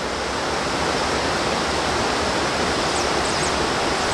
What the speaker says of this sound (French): Il y a 3 chutes du Carbet qui descendent de la Soufrière. Celle-ci c'est la deuxième